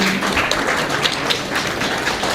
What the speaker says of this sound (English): Let's give the choir one more round of applause.